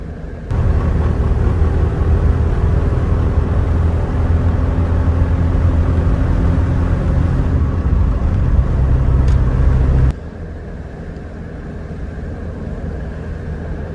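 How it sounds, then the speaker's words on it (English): A 1977 Alfa Romeo Alfetta 2.0 GTV with a five-speed gearbox is heard from inside while driving. Its engine makes a loud, steady drone that drops abruptly near the end as the revs fall, like an upshift or lift-off. "5-speed box, goes up and down the gearbox nicely"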